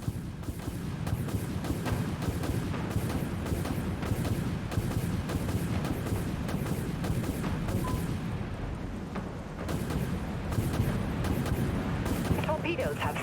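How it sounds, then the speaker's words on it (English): Missiles launching in a submarine combat game, heard as continuous rumbling blasts and thuds in rapid succession, loud and close, with a voice talking over the din. "Launching missiles. All silos reloading, Captain."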